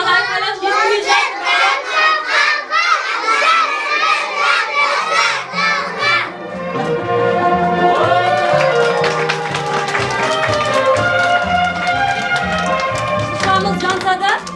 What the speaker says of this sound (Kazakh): Кәне тағы айқайлап естімей жатыр.